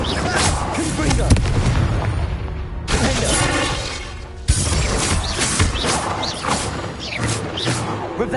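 Confringo blasting curses go off repeatedly in Hogwarts Legacy, loud booming, crashing explosions arriving in dense bursts with abrupt breaks between them, mixed with game combat noise and some voices.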